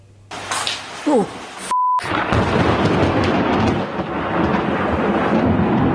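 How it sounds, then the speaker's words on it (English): Thunder during a freak storm in Perth's hills, where lightning struck a home: a sharp crack after a brief tone gives way to a loud, sustained rumbling roll with rain-like hiss. "A man has captured the moment his home was struck by lightning during a freak storm in Perth's hills."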